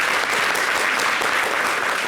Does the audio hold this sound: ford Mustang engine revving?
no